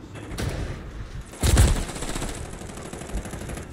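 Call of Duty gunfire in rapid bursts, with a louder, close volley of shots partway through over a steady backdrop of distant automatic fire.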